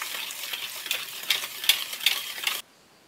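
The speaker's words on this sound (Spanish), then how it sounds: "Voy a mezclarlos." Sugar and vegetable oil are stirred together in a bowl for carrot cupcake batter, a steady close scraping and clinking of the utensil that stops abruptly, with no voices.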